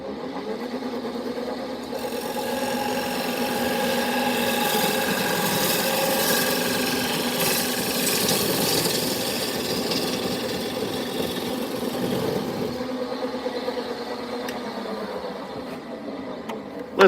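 A wood lathe spins while a bowl gouge cuts into a turning bowl, a steady motor hum with a rasping, scraping cut that swells in the middle and eases off near the end, no speech.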